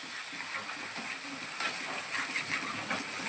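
Onion sautéing in a pan for pav bhaji, a quiet continuous sizzle and hiss with faint stirring crackles throughout.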